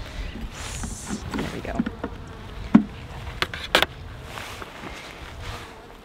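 Honey bees buzz around an opened hive during an inspection, a steady close insect hum under scattered knocks and scrapes from frames and tools.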